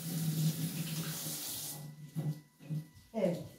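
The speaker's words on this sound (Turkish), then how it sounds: "Domatesimi koyduktan sonra ellerimi müsaadenizle yıkayacağım." Hands are washed under a running kitchen tap while pickles are prepared, with a steady rush of water that stops halfway, then brief splashes and movement at the sink.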